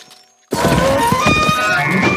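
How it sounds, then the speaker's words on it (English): Creature sound effects built from tinkling glass and crunching ice burst in after a brief near-silence, bright glassy chimes and ringing tones mixed with crisp crunches and knocks, loud and close. "I used tinkling glass and crunching ice to match the hunger crystals that are covering the animals"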